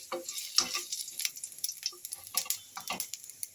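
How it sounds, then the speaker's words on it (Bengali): Cumin seeds fry in mustard oil with a faint crackle while a utensil scrapes and taps the pan in irregular strokes, close and quiet. "একটু গোটা জিরে দিলাম, গোটা জিরেটা একটু ভালো করে নাড়াচাড়া করে নেব।"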